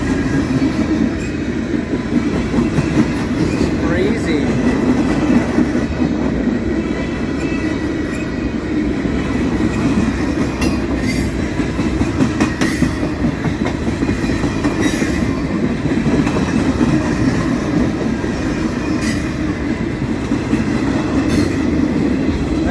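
A train rolls past steadily with a continuous rumble and rhythmic clatter of wheels on the rails, close by, with no voices.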